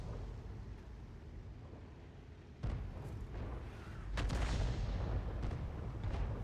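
A Lorraine 155 artillery piece fires a shell in a tank video game, a sudden heavy boom at about 2.6 seconds followed by a second louder rumbling blast near 4.2 seconds, with low rumble continuing underneath.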